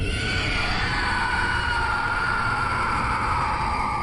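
A sustained, harsh, eerie scream with a wavering, distorted tone, loud and unbroken from start to finish.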